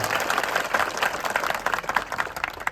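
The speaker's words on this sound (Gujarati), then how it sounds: "પહેલા તો આપણે એમને જોરદાર તાળીઓના ગણગણાટથી એમને વધાવી દઈએ" An audience at a district political meeting in Gujarat breaks into applause to welcome a local legislator, giving a lively, uneven rattle of many hands that swells and dips without any speech on top.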